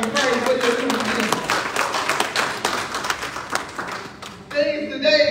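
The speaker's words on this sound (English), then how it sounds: "Give the Lord a hand clap" Congregation clapping hands together in a Baptist church service, a lively burst of many overlapping claps that carries on for several seconds and then cuts off, with a voice speaking over it near the end.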